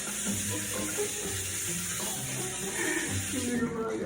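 Hot tap water runs into a sink for washing in Saudi Arabia, a steady broadband rush that holds for the whole stretch with a little splashing and clatter beneath it.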